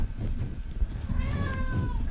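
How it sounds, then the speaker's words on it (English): A pet cat gives a single drawn-out meow, fairly close and clear, rising and bending in pitch over about a second against low background rumble. "Dark spirit entered the room in the form of my cat."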